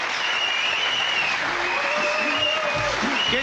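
Applause from a crowd fills the hall at a 1995 Mosconi Cup pool match in Essex, a steady broad clatter of clapping throughout, with faint voices and whistles rising underneath.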